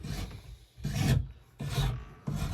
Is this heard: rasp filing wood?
yes